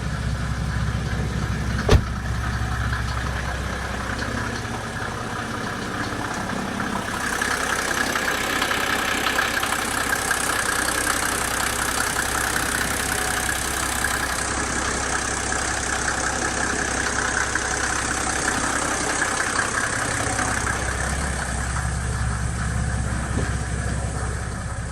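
A 1987 Mercedes-Benz 300 SDL engine idles steadily nearby, a continuous low rumble with a brief click early on and a change in hiss partway through, with no talking.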